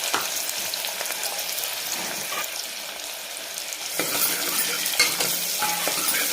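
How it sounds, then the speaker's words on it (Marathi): Chopped onion hits very hot oil for a village-style dry mutton dish, a steady crackling sizzle that swells louder around the moment the onion drops in and keeps hissing strongly, close and without any talk. "तेल छान गरम झालं की लगेच याच्यामध्ये आपण कांदा टाकून घेऊ।"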